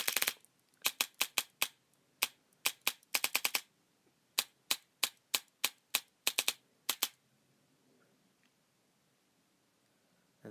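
A repaired Echo1 airsoft gun with a DSG gearbox fires a string of sharp, crisp single shots and quick doubles. The shots come at an irregular pace, then stop, leaving a quiet tail.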